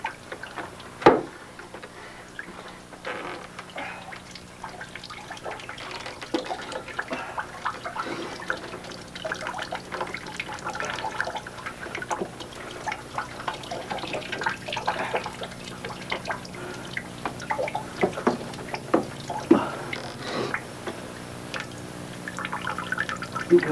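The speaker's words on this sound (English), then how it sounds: "Try to get all that water out of there." An animal hide is twisted to wring it out during hide tanning. Water drips and trickles steadily for over twenty seconds with scattered louder splashes and taps, no talking.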